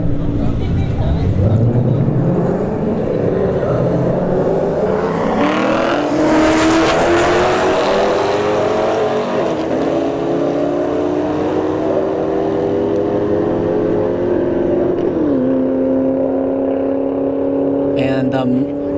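A 5th gen Camaro and an S197 Mustang launch side by side down a drag strip, engines roaring loud as they rev and pull through the gears, then fading and dropping pitch into the distance, with an announcer talking over it.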